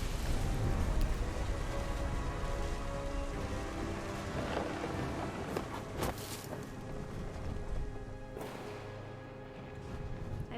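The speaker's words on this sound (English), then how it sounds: "The thunder sounded much too close and full of angry power." A thunderstorm with steady heavy rain and close thunder rumbling through it, a continuous loud wash with a few sharper cracks, and no one speaking.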